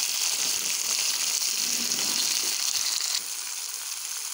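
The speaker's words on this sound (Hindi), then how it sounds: "अब मैं इसे थोड़ी देर भूनूंगी" Onion, ginger and garlic fry in a pan for chicken garebe, with a continuous close sizzle that stays fairly steady throughout and eases slightly toward the end.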